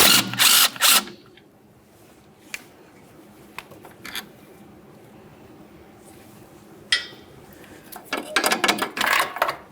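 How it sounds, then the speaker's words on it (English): Power tool removing a 10mm brake hose mounting bolt from the strut on a 2006-2012 Ford Fusion, short loud bursts at the start and end with quieter clicks and handling noises between. "You'll find that you have a 10mm headed mounting bolt. Let's remove that to dislodge this from the strut."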